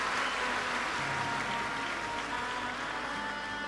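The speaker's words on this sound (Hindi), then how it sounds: "एक बार सभी यजमान के लिए जोरदार ताली बजाकर स्वागत वंदन अभिनंदन" An audience at a Shiv Mahapuran religious discourse claps to welcome the hosts, a steady, dense wash of applause that holds for several seconds.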